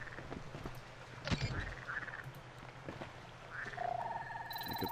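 Frogs croak in the Beyond Good & Evil video game, a few fairly faint croaks scattered over a quiet ambient game background, with no talking.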